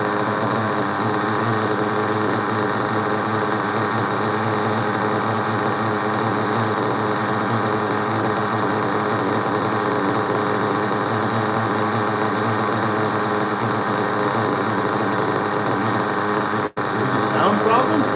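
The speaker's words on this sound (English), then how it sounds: "That engine runs so good." A small RC model engine on an O'Donnell ZO1B runs at a steady high-pitched whine, loud and unbroken, then briefly cuts out near the end.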